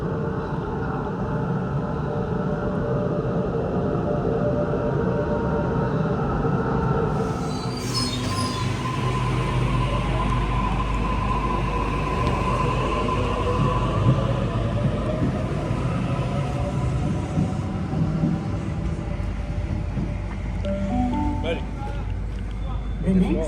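A Sydney Trains train rumbles into a station on the Bankstown Line, wheels squealing and screeching loudly as it slows, with steady rail noise and a voice announcement partway through.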